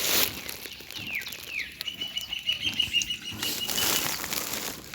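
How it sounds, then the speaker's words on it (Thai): Birds and crows around a pig farm, with fluttering wing flaps and scattered chirps and calls at moderate distance, alongside broadband outdoor noise and no speech. "บรรยากาศแต่เศร้าเลยเสียงนกเสียงกาครับ"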